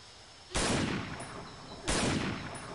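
Two sharp sniper rifle shots in the video game Combat Task Force 121, each a loud sudden crack with a booming tail, spaced about a second and a half apart, with no talking.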